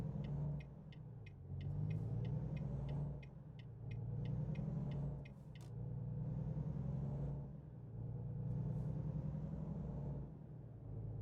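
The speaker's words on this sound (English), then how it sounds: "I know we're kind of driving around, you know, with no trailers here at the moment" A truck in American Truck Simulator drives bobtail without a trailer, its engine a steady low rumble that swells and eases in slow waves, with a run of light rhythmic ticking early on.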